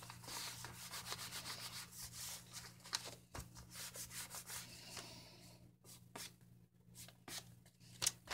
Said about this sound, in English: You have a bone folder, you can use that.